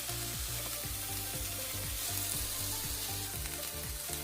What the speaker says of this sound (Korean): 팬에 파프리카와 양배추를 얹고 중약불에서 구워줍니다